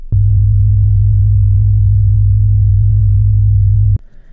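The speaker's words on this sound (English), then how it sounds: "It sounds almost the same as a single sine wave." A steady low pure tone from two summed vibration signals beating, with a faint, rapid pulsing, sounding almost like one unwavering sine wave, holding for about four seconds before cutting off.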